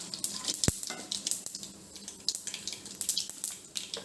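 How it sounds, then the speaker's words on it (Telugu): Tempering seeds sizzle and crackle in hot oil in a pan while cooking a baby potato and broad beans curry, a soft steady fizz with scattered sharp pops and one louder knock, close and quiet. "తాలింపు గింజలు వేగినాయండి."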